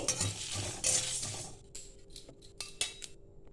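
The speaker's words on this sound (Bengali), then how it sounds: "এইটা আমার ভাজা হয়ে গেছে, আমি একটা বাটিতে ঢেলে নিচ্ছি" Fried mango pickle spices poured and scraped from a pan into a bowl, a scatter of dry rustling followed by a few sharp clinks and taps of a spoon against metal, close and moderately loud.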